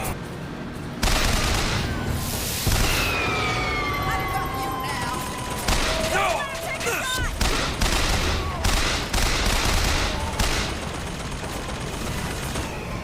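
Gunfire in the BioShock Infinite video game: loud, dense bursts of rapid shots and booms with whooshing effects and mechanical clatter, continuing almost without pause throughout.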